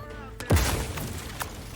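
Grenade explosions in the video game Outer Worlds 2: one sharp boom with a sweeping low rumble, then a fainter blast, over game noise and voices.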